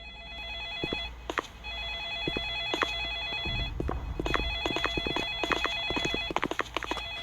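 A telephone rings in a Roblox horror game set in an ice cream shop, repeating in evenly spaced electronic bursts over a low background hum, with short clicks between rings and no talk.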